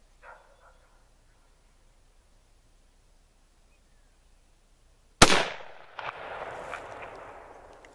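One M1 Garand rifle shot cracks loudly after a long quiet stretch on an outdoor range, with a sharp onset, a second brief report and a lingering rolling echo.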